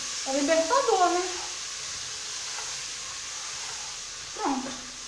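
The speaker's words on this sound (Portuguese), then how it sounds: "Nós vamos refogar só o tempero." Seasoning sautés in a pan for quick-cooked beans, a faint, steady sizzle running underneath while a person speaks briefly at the start and again near the end.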